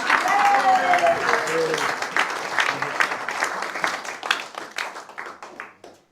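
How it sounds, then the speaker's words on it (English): An audience at a political conference breaks into steady applause that gradually thins and fades out, with a voice briefly audible at the start. "Give him a big round of applause."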